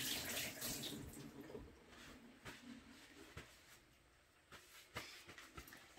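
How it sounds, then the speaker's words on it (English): Hands washed under a running kitchen tap while cooking fish, a steady close splash of water with brief scrubbing bursts and soft knocks, quiet and with no talking. "so let me wash my hands."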